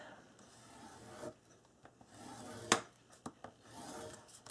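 Scoring paper with a tool for a folio gusset gives soft scraping and rubbing strokes, with a few sharp clicks and taps in between, close and fairly quiet.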